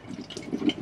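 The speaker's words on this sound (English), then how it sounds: "As you start to turn it to the hot, it'll start to cough and sputter and you'll hear the water" A hot water tap on a Bailey Approach Autograph 740 caravan coughs and sputters in brief uneven spurts as the boiler fills, near and fairly quiet.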